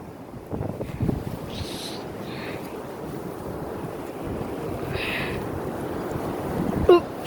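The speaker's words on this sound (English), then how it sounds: "hold your hood when there's strong wind gust comes" Strong wind gusts during a major March windstorm in Ronkonkoma, New York roar steadily against the microphone, a continuous rushing buffet that swells slightly toward the end, with no clear talking.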